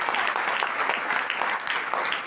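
Dense, sustained applause from a crowd in a hall at a direct-selling leadership event, many hands clapping evenly throughout.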